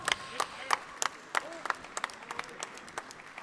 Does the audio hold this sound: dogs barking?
no